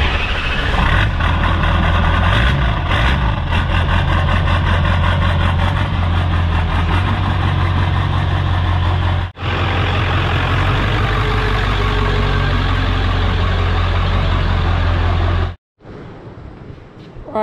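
A Ford F Super Duty shop truck with a swapped 7.3 Powerstroke diesel idles loudly and steadily nearby, with a low, even rumble that briefly drops out twice before cutting off near the end.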